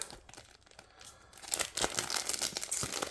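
A small plastic pouch holding a stainless steel bezel ring for a Garmin Fenix 7S watch is handled, giving quiet crinkles that build into louder, busier rustling and crackling partway through, close up with no speech.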